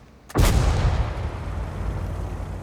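A single heavy tank cannon blast in a video game booms suddenly, followed by a long rumbling decay. No voices are heard.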